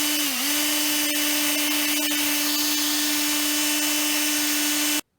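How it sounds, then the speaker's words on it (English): Steady, loud whine of a power drill boring a finger hole through a steampunk knuckle-duster ring, running continuously for about five seconds before cutting off abruptly. "I got it marked out where I'm going to drill the hole to stick my finger in"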